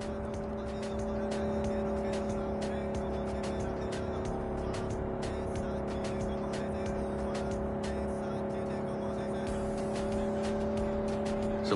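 A car speeds through the streets in Cyberpunk 2077 with a steady, droning engine hum held at a constant pitch, a continuous road rumble underneath, and faint clicks and ticks scattered throughout.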